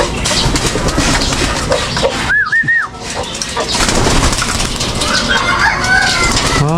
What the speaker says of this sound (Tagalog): At nandito tayo sa ating manukan.